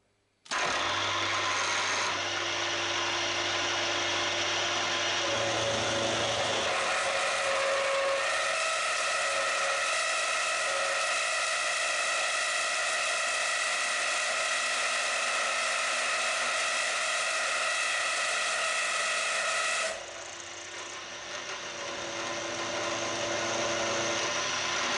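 A milling machine with an upgraded head drives an end mill through steel, giving a loud, steady whine with a layered tonal hum for about twenty seconds, then dropping to a quieter running drone.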